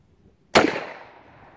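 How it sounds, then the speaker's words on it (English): A single loud shot from a Pietta 1873 Colt clone revolver firing .45 Long Colt outdoors, uphill, a sharp crack followed by a quickly fading echo, after near silence. "let's shoot the top target with the ACP, with the long Colt"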